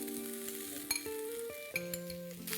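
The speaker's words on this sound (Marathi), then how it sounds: "हे 4 बटाटे आहेत, ते आपण आता याच्यात घालून घेऊया।" Boiled potatoes tipped into a hot pan with spices for a masala dosa filling, sizzling steadily while a spoon clinks and scrapes against the metal in a few short knocks, close and fairly quiet, with no talking.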